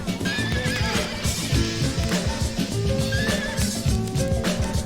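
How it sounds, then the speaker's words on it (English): Horse neighing and whinnying inside a music track, repeated high whinnies riding over a groovy beat with bass and drums, loud and upfront in the mix. "Is that a horse?"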